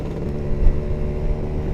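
A Kawasaki Ninja two-stroke motorcycle with its standard exhaust revs close by, a steady, brief, buzzing engine note with a slight rise in the middle.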